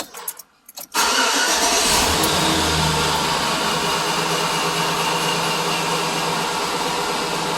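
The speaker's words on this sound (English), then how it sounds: "Start the vehicle." A brief cranking rattle, then a 2005 Chevy 1500 pickup engine catches and settles into a loud, steady idle rumble up close.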